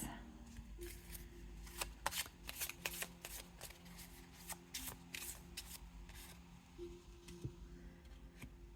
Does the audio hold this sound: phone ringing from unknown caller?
no